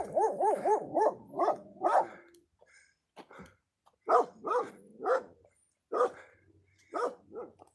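A dog barks repeatedly outdoors in the Colombian countryside, with a first burst of quick, rhythmic barks, a short pause, then further spaced, loud, close barks mixed with growling.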